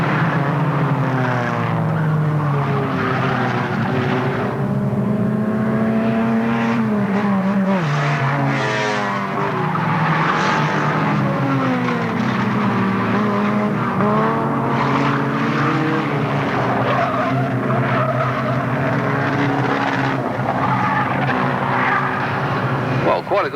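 Standard rod race cars roar around an oval track at Alwalton Raceway in 1983, their engines whining and rising and falling in pitch as they pass, loud and continuous under a voice talking throughout.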